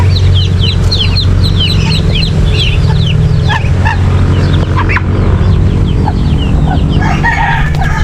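A mother hen clucks and chatters loudly nearby while her ducklings peep in quick, high chirps, over a steady low rumble.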